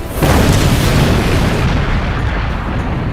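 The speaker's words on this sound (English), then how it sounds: "creating a massive explosion and taking down his enemies." A massive explosion erupts with a sudden loud boom, then rolls on as a dense, sustained rumble that slowly thins over about three seconds.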